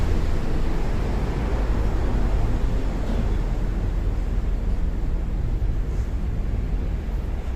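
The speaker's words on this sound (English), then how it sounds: "We're under the train tracks now, so that's the sound of trains." Constant heavy low rumble and broadband roar of trains passing overhead on tracks near Tokyo Station, steady and loud throughout with no voices.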